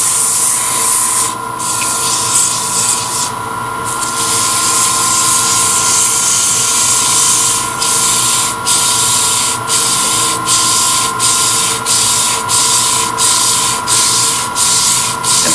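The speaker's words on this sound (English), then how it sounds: "it took a few more strokes of the sandpaper to clear off that back edge" Sandpaper at 180 grit rubs against a spinning softwood Christmas ornament on a lathe, giving a loud steady hiss broken by a regular run of short strokes, close up with the motor droning underneath.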